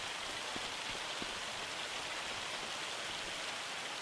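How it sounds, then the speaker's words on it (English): Hail pelting down in the Farming Simulator 25 farm game, a steady dense patter of small impacts across the whole stretch with no talk over it. "unfortunately it's hailing"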